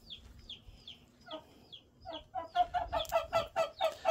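A hen clucks in a quick series of sharp, rising calls, with softer chirps early on before the clucks grow louder and more rhythmic.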